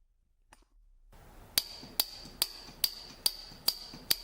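A piggywelder 4 spot welder works at fast speed, firing a rapid, evenly spaced series of sharp metallic clicks after a brief quiet start.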